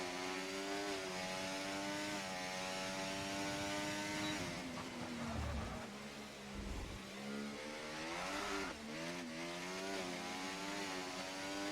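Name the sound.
race car engine and tires sliding in a sim racing video game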